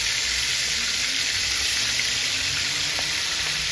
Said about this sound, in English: Put our chicken back to fry.